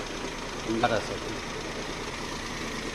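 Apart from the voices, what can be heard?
Maruti Alto car engine idling with AC on, vibrating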